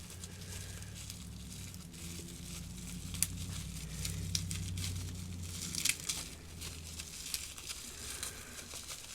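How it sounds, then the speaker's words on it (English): Electrical tape peeled and pulled off a parcel sent from England, heard as close crinkling and sticky tearing with scattered crackles and rustles of wrapping throughout. "maybe I can just pull the electric tape off of"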